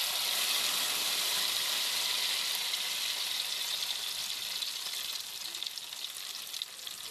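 Eggs with tomatoes sizzle and crackle steadily in a hot pan, a dense continuous frying hiss close up that eases slightly toward the end, with no talk.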